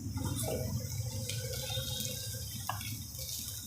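Water poured into a spoonful of cornflour to mix a thin slurry for soya chunk Manchurian, a steady close trickle with faint clinks, no voices.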